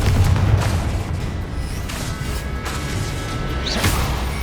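A Confringo fire spell blasts in Hogwarts Legacy, giving a deep booming explosion at the start and more crackling impacts and whooshes later, all over a steady rumbling game-combat background.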